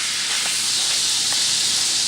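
Peppercorn steak searing on its edges in a hot pan, a loud, steady close-up sizzle and hiss that runs without a break from start to end.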